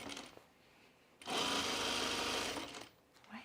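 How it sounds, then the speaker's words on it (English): A sewing machine edge stitches the cuff of a pullover camp dress in one steady, close whirring run of about a second and a half, with quiet room sound and faint voices before and after. "I think I'm going to edge stitch the cuff."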